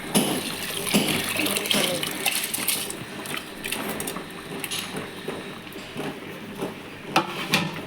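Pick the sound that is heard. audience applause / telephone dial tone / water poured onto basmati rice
water poured onto basmati rice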